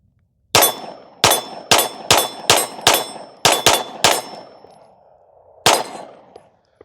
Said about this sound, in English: So I'm shooting my S&B 115s.